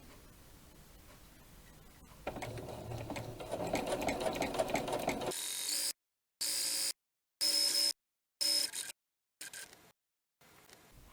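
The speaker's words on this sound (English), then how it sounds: "This thing goes up and down with the sewing machine, and that drives the feed mechanism." A sewing machine fitted with a walking foot stitches fabric, its fast steady mechanical whirring and needle chatter running close up for a few seconds, then breaking into several short bursts separated by silences.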